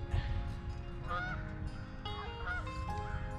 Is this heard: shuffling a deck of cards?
no